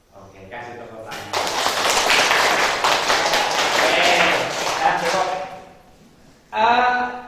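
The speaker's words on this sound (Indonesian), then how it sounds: "Oke, kasih tepuk tangan." Students clap by hand in a classroom during a teaching practice session; a burst of dense clapping rises after a spoken moment, fades, then voices return over the room.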